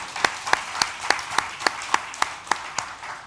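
Slow, evenly spaced claps, about ten sharp hits over a few seconds, fairly close and moderately loud, with no talking.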